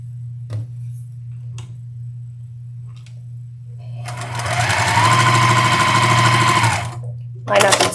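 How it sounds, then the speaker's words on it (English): Sewing machine stitching quilt squares for a nine-patch quilt: a few faint clicks over a low hum, then a loud, fast, even run of stitching lasting a few seconds before stopping, with another brief burst at the end. "Line up and sew."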